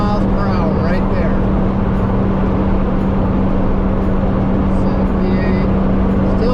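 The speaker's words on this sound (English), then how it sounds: "let me get to 80 miles per hour right there" A vehicle fitted with 4.88 gears and 35 inch tires accelerates toward 80 mph, producing a steady, loud interior drone of engine and road noise with a constant low hum, while a person talks over it.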